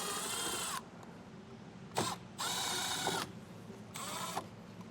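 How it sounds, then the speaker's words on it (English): A power driver with a T15 Torx bit backs screws out of a wheel well liner on a 2021 Chevrolet Silverado. It makes several close, whining motor bursts separated by short pauses. "I'm going to use a T15 Torx bit, and I'm going to take 3 screws out of the wheel well liner."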